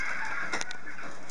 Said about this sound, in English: Someone's playing Angry Birds in the background.